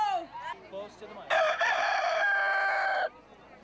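At a rooster crowing contest, a rooster lets out a loud, close crow lasting nearly two seconds, preceded by short clucks and faint background crowd noise.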